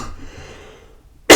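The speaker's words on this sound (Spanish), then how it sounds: "Ay, disculpen la tosecilla." A single short, sharp cough bursts out at the very end, following a stretch of soft, low breathing noise.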